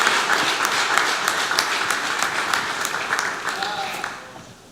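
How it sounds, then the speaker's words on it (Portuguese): Church congregation applauding in praise, a dense steady wash of clapping that fades out toward the end, with voices mixed in. "Palmas para Jesus."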